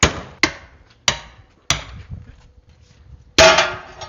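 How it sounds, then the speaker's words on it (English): A sledgehammer pounds a tractor tyre in five heavy, close, loud blows, spaced irregularly with short pauses between strikes and a longer gap before the last. "In doubt, whack it with a big hammer."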